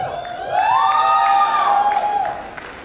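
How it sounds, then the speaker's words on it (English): A convocation audience at a hospital's PG MD/MS ceremony lets out a sustained, rising whoop over a bed of crowd noise and cheering. It lasts about two seconds, then fades. "Keep your rounds of applause ready for up and coming surgeons of KM Hospital."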